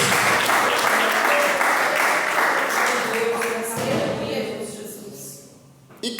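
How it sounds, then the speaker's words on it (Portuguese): A church congregation claps together during a worship service, a dense, sustained wash of applause that stays loud for several seconds before tapering off near the end. "A igreja pode glorificar e bater as palmas para Jesus."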